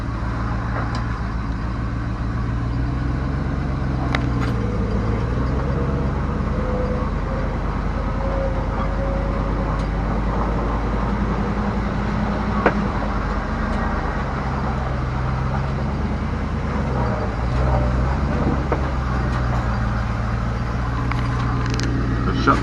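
A 1979 Dodge Power Wagon, abandoned for 25 years and newly revived, idles close by with a deep, steady rumble, its pitch wavering slightly a few times, and faint clicks and knocks come through over the engine.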